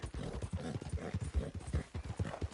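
Steady clip-clop of horse hooves trotting along in Red Dead Redemption 2, a continuous rhythmic patter of fairly close, moderately loud hoofbeats with no voices.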